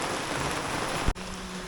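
Rain falls in a steady, even hiss, close and continuous, broken by a brief click or bump near the end before the downpour carries on.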